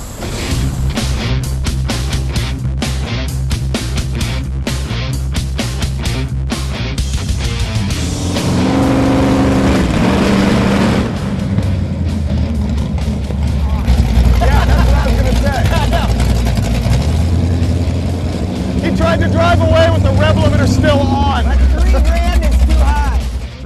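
A drag car's engine held on a two-step launch control against the brakes, with a tight torque converter, roars loudly and continuously, droning and surging in revs, close up.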